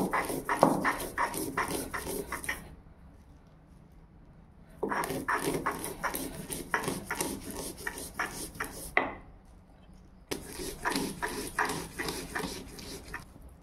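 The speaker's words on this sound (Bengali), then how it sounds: "বেজে রাখা বাদামগুলো বেটে নেব একটি শিলনোড়ায়।" Roasted peanuts being ground on a stone shil-nora, heard as three bursts of rapid, rhythmic scraping and knocking strokes separated by short pauses, close up with no talking.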